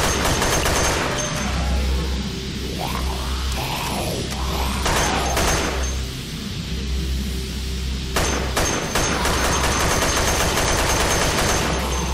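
Gunfire rattles from the shooter video game Dead Effect 2, with rapid automatic bursts and repeated shots over a steady game soundscape.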